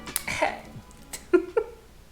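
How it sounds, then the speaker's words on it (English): A few short, deliberate fake coughs, one early and two sharper ones near the end, with small throat sounds between. "Fake ass cough."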